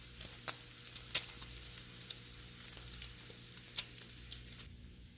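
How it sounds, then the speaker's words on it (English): Bacon sizzles on a flat griddle with a quiet, steady frying hiss, broken by sharp little pops and crackles of spattering fat scattered irregularly throughout. "Listen to that sizzle."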